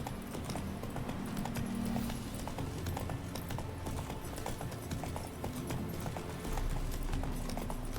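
Roach the horse gallops in The Witcher 3, with steady rhythmic hoofbeats thudding continuously and close throughout, alone over a low ambient bed.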